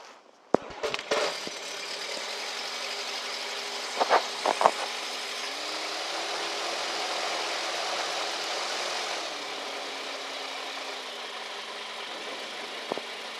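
A few sharp clicks, then a light aircraft engine catches and settles into a steady idle, with its pitch rising slightly and dropping back, no voices.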